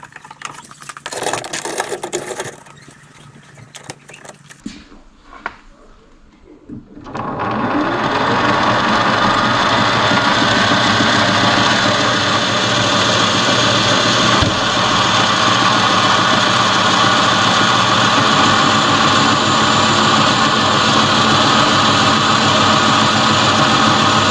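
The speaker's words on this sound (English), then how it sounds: "I also need to re-engage the lead screw so I can use the power feed." A Sieg SC3 mini lathe turning metal stock under power feed: after some clunks and knocks while the lead screw is engaged, the motor starts and settles into a loud, continuous whirring drone that runs on steadily.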